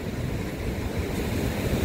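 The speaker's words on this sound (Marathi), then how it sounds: "आलं पाणी आलं. थांब पाणी आलं." Monsoon sea waves washing onto the Konkan shore, a steady close roar of surf mixed with wind buffeting the microphone, with no voices.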